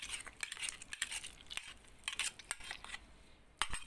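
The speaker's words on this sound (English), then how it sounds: "Keep mixing until it becomes perfect slime" Ready-made rainbow pink slime is stirred and mixed, giving faint, quick, sticky clicks and squelchy taps in a steady patter, close but quiet, with no talking.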